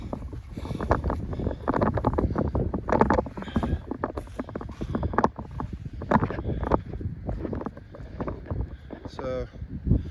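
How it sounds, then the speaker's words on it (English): Strong wind gusting across an outdoor disc golf course in Findlay, Ohio, buffeting the microphone in uneven rumbling bursts while a person talks over it throughout. "Sorry, but the wind's really bad."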